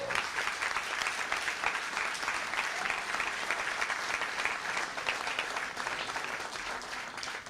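A room full of people at a Basse-Terre municipal council installation clapping together, a steady, even wash of handclaps with no voices over it, holding for several seconds before tapering slightly at the end.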